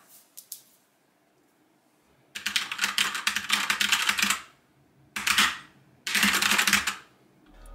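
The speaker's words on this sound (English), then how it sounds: "my keyboard is the Keychron K4 mechanical keyboard." Typing on a Keychron K4 mechanical keyboard, close and crisp, a few light taps and then three bursts of rapid clacking keystrokes separated by short pauses.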